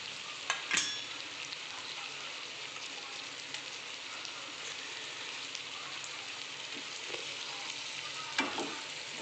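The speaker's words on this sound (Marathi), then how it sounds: "याच्यात आपण आता पनीर ॲड करून घेऊ आणि याला छान मग मिक्स करून आपल्याला घ्यायचं आहे" Paneer pieces mixed in a frying pan for chilli paneer give a steady, rain-like sizzle throughout, with a couple of brief spoon clinks near the start and end and no voices.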